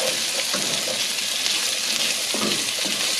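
Potatoes frying in hot bacon grease give a steady, close sizzle and crackle, with a few soft stirring scrapes in the pan.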